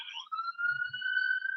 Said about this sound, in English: That's ambulance.